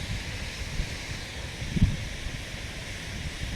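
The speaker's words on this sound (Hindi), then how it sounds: "बहुत सारे झरने जो है बह रहे" Many waterfalls flow at Sahastradhara in the Uttarakhand mountains, a continuous broad rushing roar heard from some distance, steady and unbroken, with wind buffeting the microphone.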